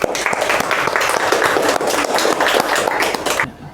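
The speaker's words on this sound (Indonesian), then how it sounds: "Ya, tepuk tangan dulu." Applause from a lecture audience after a group's medical presentation on endometriosis, a dense steady patter of claps lasting several seconds before cutting off abruptly.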